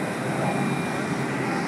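A Czechoslovak-made L-39 single-engine jet trainer makes a flyby at an air show at Lackland Air Force Base, a loud steady broadband jet roar that holds level throughout.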